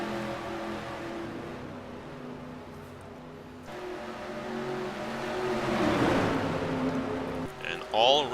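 Race cars on a digital super speedway in a racing video game, a steady close engine drone that swells and shifts pitch as cars run together, under continuous commentary talk.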